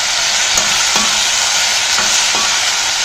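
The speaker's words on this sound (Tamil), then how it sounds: "இது அப்படியே வதங்கிட்டே இருக்கட்டும்." Ivy gourd sautéing with urad dal, turmeric and salt in a pan gives a steady, loud hiss, broken by a few soft scrapes of a spoon stirring.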